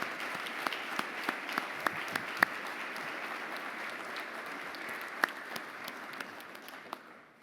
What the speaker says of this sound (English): let's give Keith a round of CII applause for his extraordinary accomplishments.